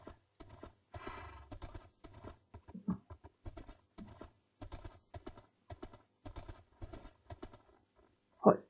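A horse in Minecraft trotting through an icy snow biome gives off a light, rhythmic clip-clop of hoofsteps that runs steadily at moderate volume and ends in one loud, sharp thump.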